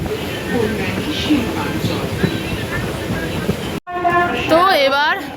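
A train heard from inside a carriage, with a continuous rumbling roar under steady rattling, then a brief dropout followed by a horn-like tonal sweep rising and falling over the noise; voices chatter faintly beneath.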